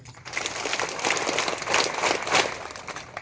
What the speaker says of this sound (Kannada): ಇನ್ನೊಂದ್ಸಲ ಜೋರಾದ ಚಪ್ಪಾಳೆ ಹೊಡಿಬೇಕು